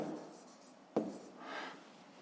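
Pen or pencil writes numbers on paper in a quiet room, a faint scratching stroke followed by a sharp tap and a brief rubbing sound.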